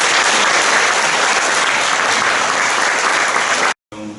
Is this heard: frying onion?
no